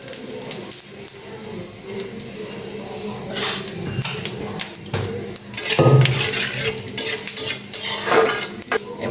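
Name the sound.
tempering whole spices in oil for chana dal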